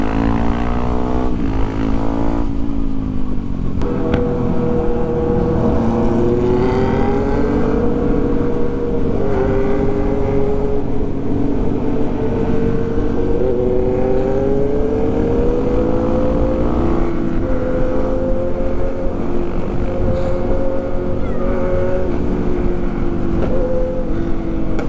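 A motorcycle engine accelerates on the road in Malang, its steady droning tone rising and shifting in pitch as the rider opens the throttle, loud and continuous throughout.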